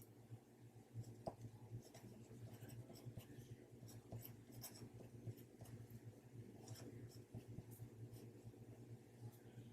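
Quiet handwriting on a large planner page, faint pen strokes scratching over a low, steady room hum, with no talking.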